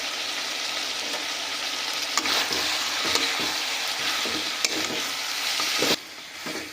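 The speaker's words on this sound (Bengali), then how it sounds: "ভাজা করে নিচ্ছি।" A freshly ground mixed spice blend fries with desi country chicken in a pan, a loud continuous sizzle broken by regular scraping stirs of the spoon, close up and without talk.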